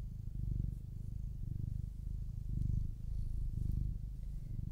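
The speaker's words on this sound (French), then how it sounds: "je vous propose d'accueillir de façon très personnelle ce ronronnement" A cat purrs steadily and close up, a low rumbling drone that swells in slow rhythmic waves with each breath, alone without any voices.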